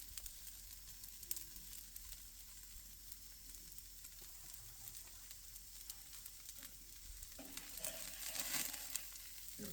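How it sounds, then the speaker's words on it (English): Steaks searing on a Weber grill outdoors at a farm give a faint, steady crackling sizzle with scattered pops, growing slightly busier toward the end. "once you get the meat on there, it starts cooking a little faster"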